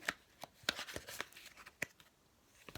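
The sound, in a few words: shuffling a deck of tarot cards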